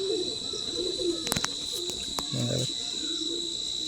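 High-quality Madras pigeons coo low and close against a steady insect-like whine and a few sharp clicks, with brief talk nearby.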